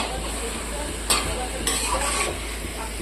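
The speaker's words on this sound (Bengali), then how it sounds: "এবার মাংসটাকে ভালো করে মশলার সঙ্গে মিশিয়ে নিতে হবে" Meat stirred into spices in a hot pan, a steady close sizzle of frying with scraping stirs and a couple of sharper clanks of the utensil against the pan.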